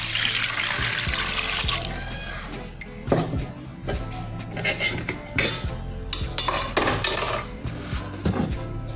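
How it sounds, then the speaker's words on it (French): Water is poured into a pot of torn smoked chicken with a short gushing splash at the start, followed by clinks and knocks of a utensil against the pot and dishes. "je vais y ajouter une portion d'eau"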